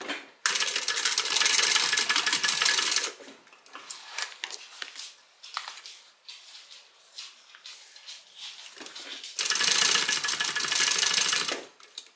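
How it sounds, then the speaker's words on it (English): A sewing machine stitches a quarter-inch seam on a small tote bag in two loud, steady bursts of running motor and needle, one long stretch near the start and another at the end, with quieter handling noises between. "We're going to sew these using a 1/4 inch seam allowance."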